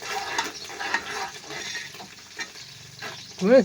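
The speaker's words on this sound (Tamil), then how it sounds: "எண்ணெய் இங்கே தெரிக்குது." Hot oil spattering and sizzling in a pan while mutton biryani cooks, irregular crackles and stirring scrapes at close range, ending with a brief louder burst.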